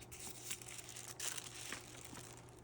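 Carbon paper tracing of tree branches is peeled up off the drawing, giving faint, close crinkling and a few soft tearing crackles in brief bursts, with no voice.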